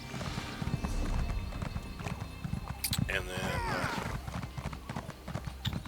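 Horse hooves clip-clopping in the Elder Scrolls Online game, a steady trotting rhythm that continues throughout under someone talking, with a brief whinny partway through.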